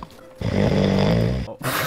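Loud, rasping snoring, one long drawn-out snore close to the microphone, rough and buzzing, ending abruptly with background noise returning afterward.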